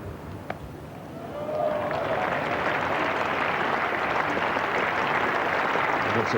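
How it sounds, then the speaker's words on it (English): A cricket crowd at a 1985 England versus Australia Test match applauds a single bringing up the 250: quiet ground murmur first, then clapping swells after about a second and a half into a sustained, broad wash. "Applause for that single because it brings up the 250."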